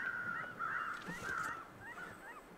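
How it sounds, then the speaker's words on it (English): A goose honks repeatedly in the survival video game The Long Dark, a steady run of nasal calls heard fairly close amid outdoor ambience, with no talking. "Why the bird noise? No, my goose."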